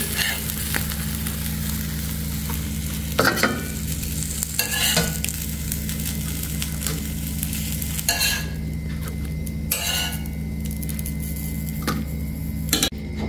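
An omelette frying in a pan gives a continuous loud sizzle, with scattered scrapes and taps from a spatula turning it, close by and without voices.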